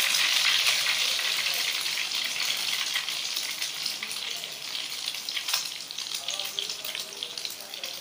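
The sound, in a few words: sweet bread slices frying in a pan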